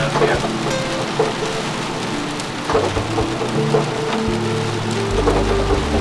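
Steady rain patters across a boat's hard surface, a dense hiss with scattered louder drops and a low rumbling drone underneath.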